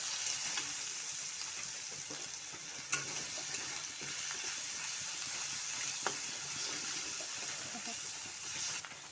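Crushed ginger and garlic frying in oil, a dense, steady sizzle with occasional stirring scrapes, close and continuous.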